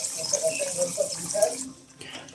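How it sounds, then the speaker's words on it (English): Water is poured into a tarantula's small water dish, a steady close trickling and splashing that stops abruptly near the end, leaving faint background noise. "Make sure her water is topped off."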